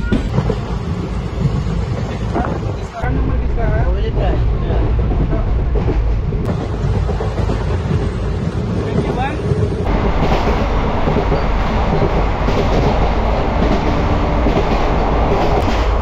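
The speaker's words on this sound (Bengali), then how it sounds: "সেই টানছে ট্রেন, 110-11 চলছে।" The Teesta Torsa Express runs along the tracks at about 110 km/h, a loud, steady rumble of wheels and carriages with continuous rattling and clatter throughout.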